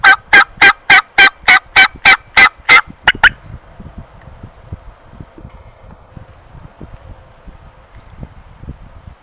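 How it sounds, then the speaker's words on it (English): A wild turkey gobbler gobbles on a spring hunting morning, a loud, close rapid string of about a dozen throaty pulses, followed by quiet with faint rustling. "It's a good gobbler."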